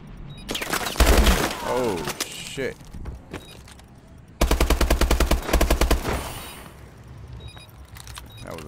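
Bursts of rapid automatic gunfire in a ranked online shooter match, two loud sustained volleys separated by quieter shots and handling clatter, with a player talking over the action.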